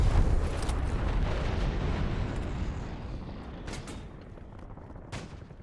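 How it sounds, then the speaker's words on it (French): A napalm strike explodes on a rooftop in a shooter video game, a dense roaring blast with heavy low rumble that slowly fades over several seconds, with a few sharp cracks near the end. "Frappe de napalm sur le toit."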